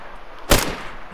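A single sharp gunshot cracks out in a video game, loud and close, then rings briefly over quiet background noise.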